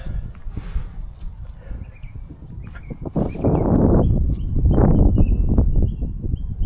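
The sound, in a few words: birds singing outdoors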